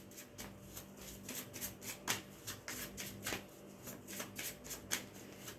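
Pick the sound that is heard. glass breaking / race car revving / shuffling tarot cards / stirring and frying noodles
shuffling tarot cards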